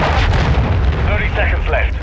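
Cruise missile strike explosions in Modern Warfare 3 multiplayer on the Wasteland map: loud, deep rumbling booms and blasts rolling on over each other, with voices heard through the din.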